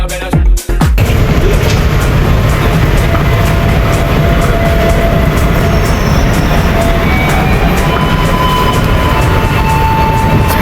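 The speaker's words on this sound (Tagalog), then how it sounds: "Sasakay na kami guys ng tren papunta Labaguada." A train ride toward La Vaguada in Madrid, Spain: a loud, continuous rumble and rattle of rail cars running steadily throughout, with a brief clunk at the start.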